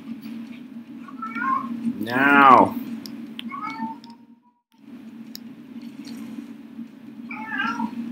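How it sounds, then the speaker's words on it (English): A house cat meows several times, one long rising-and-falling yowl standing out among shorter calls, close to the microphone, with someone talking over a steady low hum. "No meow. Please, no meow."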